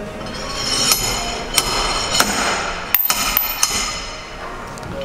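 Metallic hammer strikes on a fitting tool during a right wheel hub bearing replacement on a Lada Granta, several sharp ringing clanks at irregular intervals over steady workshop noise.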